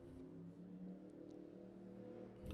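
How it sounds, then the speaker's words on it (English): Race cars speeding outside a building on Hollywood Boulevard make a faint, muffled engine rumble heard from indoors, with a brief rise in revving near the end. "there's so many race cars outside of the building today. I can fucking hear them, and they're annoying me."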